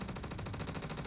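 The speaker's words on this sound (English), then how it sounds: "We hear a lot of gunfire." Rapid bursts of automatic gunfire in the video game Star Citizen rattle continuously, dense and loud, with no pauses between shots.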